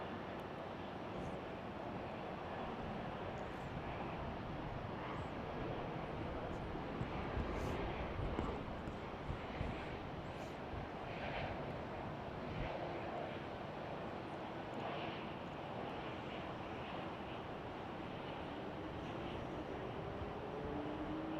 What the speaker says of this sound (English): Oh, here comes the A340.